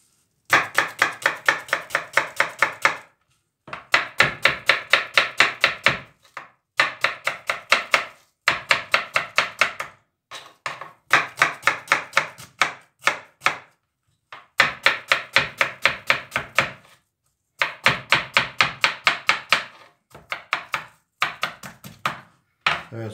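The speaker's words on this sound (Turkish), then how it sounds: "Şimdi de soğanımı küçük küçük doğrayacağım." A kitchen knife finely chops onion on a cutting board in rapid, steady rhythmic bursts of crisp taps, pausing briefly between each run, close and clear with no talking.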